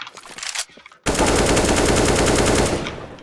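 Counter-Strike: Global Offensive automatic gunfire shooting through a wall on the Scepter map, a loud, rapid burst of shots after a brief quieter moment, sustained and close.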